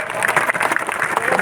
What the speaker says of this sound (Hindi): ऐसे राजा भैया के लिए जोरदार तालियां बजाएं